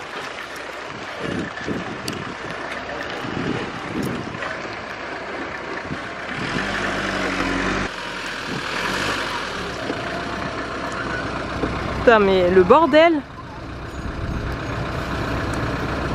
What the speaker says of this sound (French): on doit attendre que ce bus passe